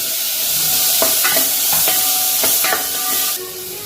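Tomatoes sautéing with homemade spice masala in a pan, a steady close sizzle and hiss with a few scraping stirs, alone with no talking.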